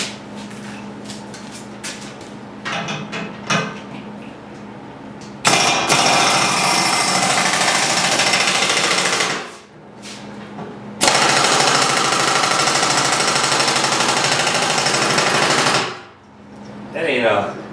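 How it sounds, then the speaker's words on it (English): An impact power tool pulls a bolt off a snow blower so the belt can come off. It starts with short rattling bursts, then fires in two long, loud continuous runs, with brief pauses between them. "I'm gonna take that bolt out in order to get the belt off."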